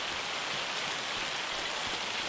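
Steady rain falls in Farming Simulator 25, a dense even hiss of drops on surfaces that stays constant throughout, with no speech over it.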